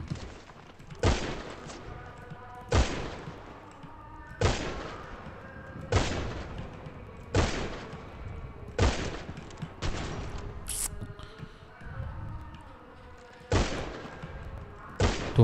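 Game gunfire rings out in a sheriff roleplay session, sharp shots arriving in a steady series about every second and a half, each a loud broadband crack with a short ringing tail.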